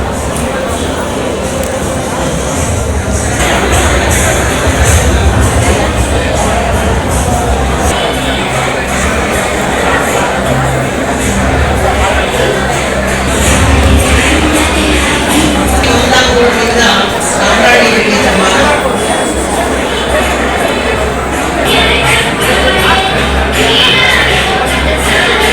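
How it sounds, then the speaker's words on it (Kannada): Loud crowd noise from a felicitation ceremony audience, a dense, steady roar of cheering and clapping with voices mixed in, continuous and close throughout. "ಜೋರಾದ ಚಪ್ಪಾಳೆಯ ಕರತಾಡನ"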